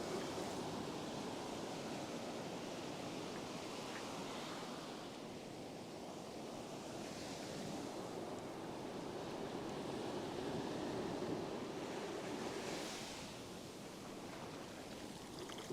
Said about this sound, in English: when I'm worming, I'm always listening for the waves